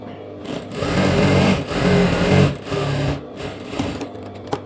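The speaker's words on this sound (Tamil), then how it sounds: "அந்த இதை வந்து உள் பக்கமாக வச்சுட்டு தையல் அடிக்கிறேன்" Sewing machine running in bursts while stitching the lining of a lehenga skirt, with several short runs separated by brief pauses, close and fairly loud, with a voice speaking over it.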